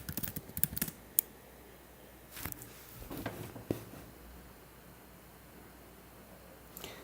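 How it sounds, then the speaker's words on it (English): Computer keyboard keys pressed while typing a password at a login, a few scattered clicks and taps in short bursts, quiet and close, with long pauses between. "then I will type in my password"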